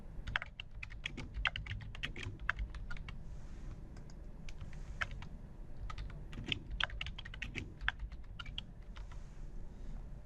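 Rapid, uneven keystrokes on a computer keyboard as free text is typed into a billing form, a close, quiet patter of clicks with brief pauses between bursts.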